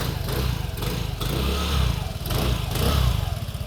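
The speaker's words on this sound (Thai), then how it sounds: "เครื่องเดิมโรงงานสตาร์ทติดง่ายเลย" A Vespa Sprint 150 scooter's original factory engine idles close by with a steady, low putter, briefly rising in pitch a couple of times.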